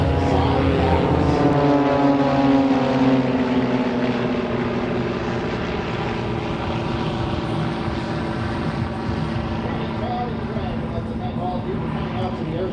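Aerobatic propeller aircraft of an air show team roar overhead at an air show in Toronto, a loud sustained engine drone with shifting pitch as the planes pass, under crowd and announcer voices.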